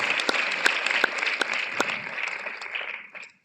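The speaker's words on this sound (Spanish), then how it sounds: "Un aplauso a Dios, siempre a Dios." Congregation applause at a church conference, a dense wash of many hands clapping with a few sharp claps standing out up front, tapering off and dying away within a few seconds.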